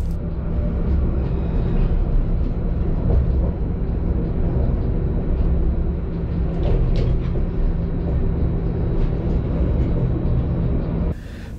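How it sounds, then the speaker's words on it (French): A line 1 tramway in Mulhouse, by the central station, passes as a continuous, fairly loud low rumble with faint high squeaks and clicks over roughly eleven seconds, heard on its own. "Tramway de la ligne 1, gare centrale de Mulhouse,"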